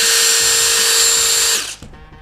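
A cordless Festool impact driver runs at a steady high-pitched whine, loud and close, then winds down and stops partway through, leaving a faint rattle with no voices.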